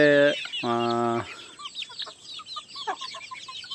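Several native chickens cluck close by: two loud squawking calls open, followed by a scatter of softer, quick clucks and chirps.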